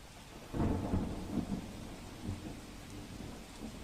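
Rain pours down steadily over Banaskantha, Gujarat, while low rumbles of thunder roll through, with a stronger burst early on and fainter rolls afterward.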